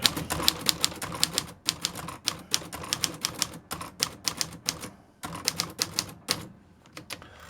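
A 1947 Smith-Corona manual typewriter being typed on, with rapid bursts of sharp key strikes in uneven rhythm, brief pauses between runs, close and clear with no voices.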